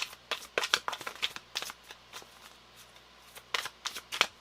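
Tarot cards being shuffled and pulled, a series of quick crisp riffling flutters and soft snaps in short clustered bursts, close and quiet with no talk.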